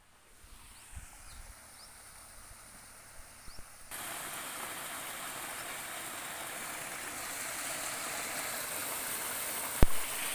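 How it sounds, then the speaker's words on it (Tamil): A motor pumps water from a farm well beside paddy fields, with a steady, close rushing gush of flowing water that starts abruptly partway through and keeps going at an even level. "சர்வீஸ் கிணறு பார்த்துருப்பீங்க. மோட்டார் இறைச்சிட்டு இருந்தது."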